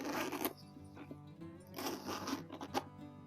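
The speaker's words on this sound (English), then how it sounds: "Let's test out the zipper." The zipper on a Portland Leather Goods leather bag is pulled open and then closed in two quick rasping runs, close and fairly quiet.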